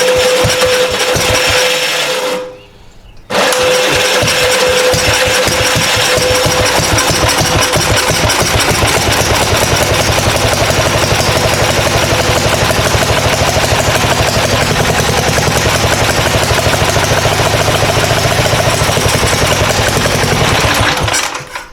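A 1965 Gravely L8 tractor's small engine runs loudly and roughly close by, a fast rattling mechanical chug that briefly cuts out early before catching again and carrying on steadily.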